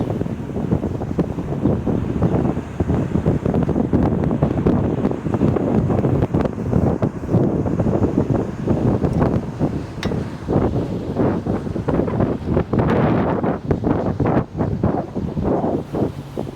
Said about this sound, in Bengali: এই ঠান্ডা বাতাস আসলে